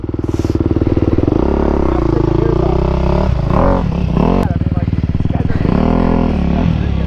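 Motorcycle engine revving hard and labouring on a steep hill climb, a loud, close, pulsing drone with rising and falling revs, while people talk over it.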